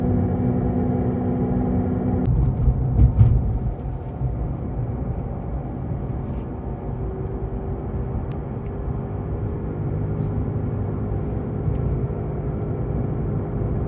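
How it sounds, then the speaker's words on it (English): Nokian Hakkapeliitta R3 winter tires roll along inside a Tesla Model 3, giving a steady, fairly loud cabin drone and low rumble that holds evenly throughout with no voices. "these are the Hakkapeliitta R3s winter tires, and I'm going to stop talking for a second so you can hear the background noise it generates in the car"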